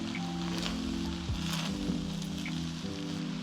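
Mixed fried rice is stir-fried on high heat in an open pan, giving a constant crackling sizzle broken by brief scraping and tossing sounds from stirring.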